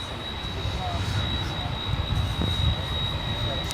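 American flight 23, a jet airliner, takes off at Dallas-Fort Worth airport, its steady engine roar rumbling at moderate distance under broad wind-like noise, with a thin constant whine holding throughout.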